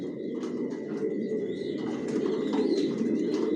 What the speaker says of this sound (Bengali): কোয়ালিটি সম্পন্ন কবুতর পালি